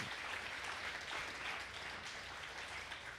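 A church congregation applauds strongly in praise during a worship meeting, a continuous wash of many hands clapping at steady, fairly faint level throughout, with no voices over it.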